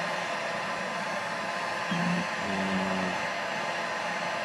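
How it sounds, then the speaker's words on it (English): A $26 heat gun blows hot air while restoring color on car door panels, giving a steady, close whooshing hiss that runs the whole time and briefly takes on a low tonal hum partway through. "This heat gun costs 26 bucks."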